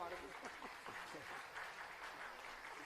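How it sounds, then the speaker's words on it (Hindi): A crowd at a Ram Katha religious gathering gives a welcoming round of applause, a steady wash of many hands clapping at moderate distance, with a voice faintly heard underneath. "एक बार जोरदार तालियों के साथ स्वागत।"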